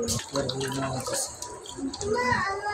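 Running water from a tap pours steadily while something is washed, with a splashing, continuous flow heard under overlapping voices talking nearby.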